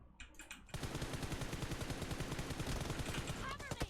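Rapid automatic gunfire from a PUBG Mobile team deathmatch rattles in a dense, steady burst lasting several seconds, loud and close, after a few brief isolated shots at the start.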